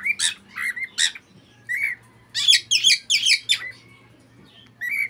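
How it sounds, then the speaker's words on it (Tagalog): A pet bird sings noisily at close range, with repeated bright squawks, chirps and whistled notes coming in short bursts and a dense cluster of rapid calls midway, over faint low background hum. "Kaya maingay yung ibon namin na isa."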